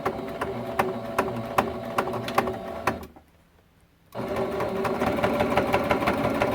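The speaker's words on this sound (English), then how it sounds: "we're just going to continue to sew all the way around" A sewing machine stitches around the edge of a quilt, a close, rapid mechanical clatter that pauses briefly, then resumes at a steady pace.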